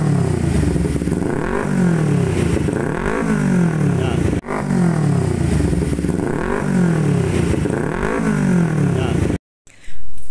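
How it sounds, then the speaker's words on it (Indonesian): A 250cc Kawasaki Ninja motorcycle on its stock exhaust revs repeatedly in rising and falling sweeps, loud and close, the exhaust note climbing and dropping in a steady rhythm before cutting out briefly. "Ini knalpot bawaan, ini terlalu keras ya"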